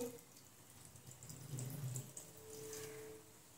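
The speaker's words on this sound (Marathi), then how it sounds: "आपण त्यामध्ये 1 वाटी पाणी टाकून घेऊ" Water poured from a bowl into jaggery in a pan on a gas stove, a soft, steady splashing pour at close range, swelling briefly in the middle and tapering off, with no talking.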